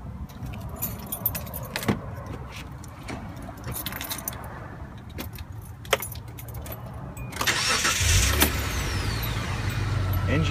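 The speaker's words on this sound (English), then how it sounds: "Now I must start the engine, which will require me to stand up." Keys jangling and clinking close by, followed by a car engine cranking and catching into a steady idling rumble that continues to the end.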